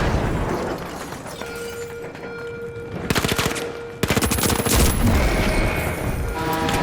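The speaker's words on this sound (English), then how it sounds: "Frag grenade out!" A frag grenade blast and dense automatic gunfire in the shooter game THE FINALS, loud and near, with rapid rattling volleys that intensify after a brief lull and no voices.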